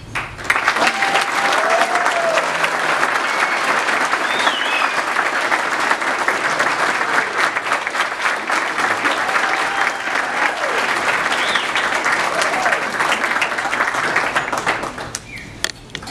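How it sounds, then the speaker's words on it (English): Audience at a military ball breaks into sustained applause, dense steady clapping from a large crowd lasting about fifteen seconds before fading abruptly. "a round of applause while Master Sergeant Jason Dekaye makes his"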